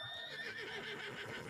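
Horse whinnying in the video game Red Dead Online, a single close, quavering neigh lasting over a second with no talk over it.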